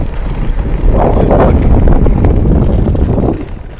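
Strong wind buffets the microphone at an outdoor RC flying field, a loud, continuous rumbling roar that swells slightly in the middle and then eases off near the end.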